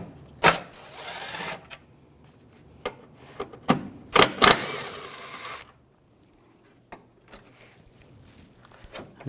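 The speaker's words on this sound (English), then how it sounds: "take these two screws out, use the T30 socket" Ratchet with a T30 socket backing out headlight screws on a 2006-2010 BMW 550i: sharp bursts of rapid clicking, several close together, separated by quieter pauses and a few lone clicks, with no talking.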